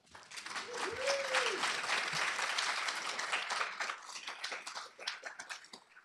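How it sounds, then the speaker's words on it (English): Audience applause at an academic keynote conversation, a full burst of many hands clapping that swells and then gradually thins toward the end, with a brief vocal sound near the start. "Your applause came early, but I love it."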